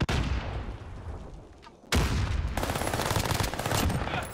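Sustained automatic gunfire in a Warzone Rebirth Island match: a dense, loud burst of rapid shots, a brief dip, then an abrupt renewed barrage of continuous close firing with no talk.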